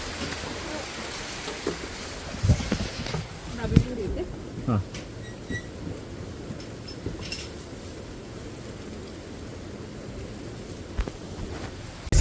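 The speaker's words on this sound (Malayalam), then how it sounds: "മഴ പെട്ടെന്ന് പെട്ടെന്നൊരു മഴ" Sudden rain patters steadily on surfaces throughout, with occasional clunks and a person talking intermittently over it.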